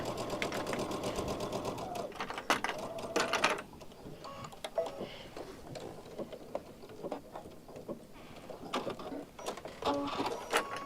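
Sewing machine set up for quarter-inch piecing, its fast mechanical stitching chatter running in bursts and pausing between them, fairly close, with faint clicks and handling sounds in the quieter gaps.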